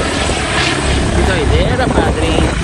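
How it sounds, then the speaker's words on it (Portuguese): Aircraft taking off from an airfield near a truck route, a loud continuous engine and propeller roar holding steady throughout, with people talking over it. "Acabou de levantar voo 1 aí, agora tá vindo outro."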